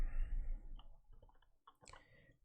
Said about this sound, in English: typing